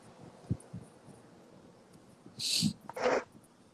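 Two short bursts of nasal sniffling, close and fairly loud, rise out of quiet room noise after a few soft thumps, with no talking.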